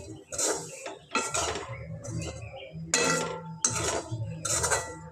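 A spoon mixes coarsely crushed peanuts into a bitter gourd curry sweetened with jaggery, giving about six close, distinct clinks and scrapes against the pan with short pauses between them.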